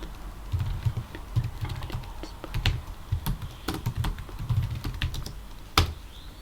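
Computer keyboard keys tapped in irregular bursts of clicks while cloning a Git repository, with one sharper keystroke near the end; close and moderately loud, with no talking.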